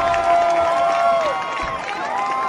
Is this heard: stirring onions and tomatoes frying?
no